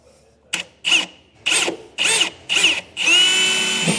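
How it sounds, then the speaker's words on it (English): Power drill boring a small pilot hole with a 1/8 inch bit into a truck frame rail for a Curt 5th wheel hitch install, five short whirring bursts then a longer steady run, loud and close. "we'll take our 1/8 inch drill bit and we will do a little pilot hole here."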